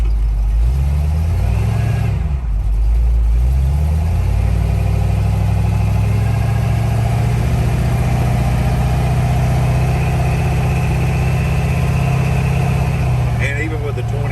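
A 1954 Ford truck on 22-inch wheels drives along the road with a loud, steady engine drone that rises briefly early on and then holds constant. Someone talks throughout.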